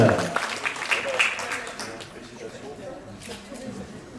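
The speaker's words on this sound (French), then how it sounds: "On peut applaudir bien fort." Festival audience applause in an indoor screening hall bursts out briefly and then fades quickly into a quiet room, with voices murmuring underneath.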